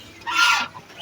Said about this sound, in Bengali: অনেকগুলো রাজহাঁস আছে এই দিঘির মধ্যে।